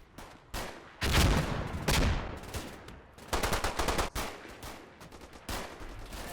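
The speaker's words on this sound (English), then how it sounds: "First Platoon's 2nd Section Bren gunner holds a key corner" A Bren light machine gun fires in the WWII strategy video game Combat Mission, loud rattling bursts repeated several times, with other gunfire cracking in between.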